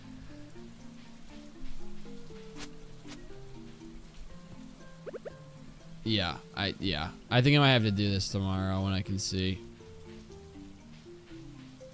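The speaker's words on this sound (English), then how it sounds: "It's dark, it's foggy, it's raining, I can't see a damn thing." Steady soft rain hisses through a dark, foggy night in Stardew Valley Expanded, running quietly beneath game music tones while someone talks over it.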